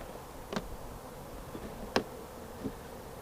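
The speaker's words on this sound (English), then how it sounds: "These are the bees that were in the flower pot a few days ago" Bees in a small colony kept in a peat flowerpot hive give a faint, low buzz, broken by a few soft sharp clicks as the hive is handled nearby.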